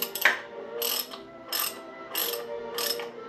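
A bolt being tightened into gearbox threads with a ratchet, making four or five evenly spaced, close, crisp ratcheting bursts that repeat with each stroke, heard alone.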